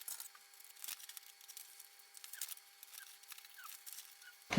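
Scissors snipping through fabric to cut open a window panel for a travel sling bag, a series of soft, quiet crisp snips in steady succession, close by, with a louder rustle at the very end.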